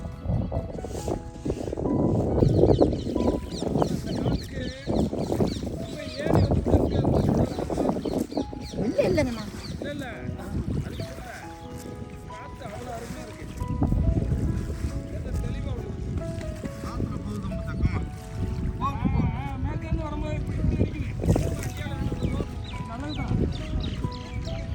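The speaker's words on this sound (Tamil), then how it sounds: "நல்லா காற்று தெக்கேந்து வடக்கேந்து அடிக்குதுங்கிட்டு" Steady wind rushing and buffeting across farmland, blowing from south and north, loud and continuous, with people talking over it throughout.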